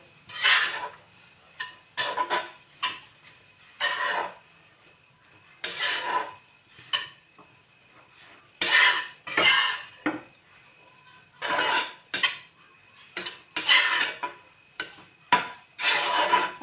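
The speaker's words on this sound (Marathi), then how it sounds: "एखाद मिनटासाठी आपण ही व्यवस्थित अशी परतून घ्यायची आहे याच्यात तुपावर" A spoon scrapes and clacks against a pan while sautéing in ghee, repeated bursts of stirring, close and fairly loud, with quiet pauses between strokes and no talking.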